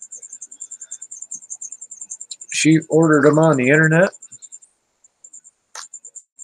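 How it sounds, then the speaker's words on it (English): Crickets kept as bearded dragon food chirp in a steady, rapid high pulsing that runs through the whole stretch, close and clear, pausing only briefly while someone speaks over it. "that is the crickets"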